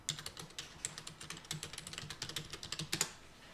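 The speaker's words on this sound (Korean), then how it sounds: "여기 위쪽에 검색창에다가 지도 검색창에다가 한일 컴퓨터 학원이라고 적어 볼게요" Fingers typing on a computer keyboard into a map search box, a quick uneven patter of close keystrokes with one louder key press near the end.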